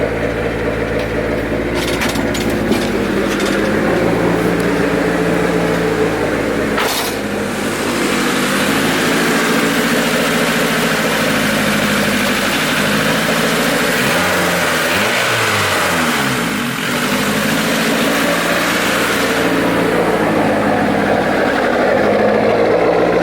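A turbocharged Honda Civic engine runs steadily and loudly, holding a mid-pitched drone with a brief rev swell near the middle, close up and without talk.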